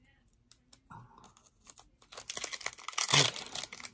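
Foil booster pack wrapper of a Pokemon Fusion Strike card pack crinkling and tearing as it is opened, starting with sparse small crackles and building to a dense, loud burst of close crinkling near the end.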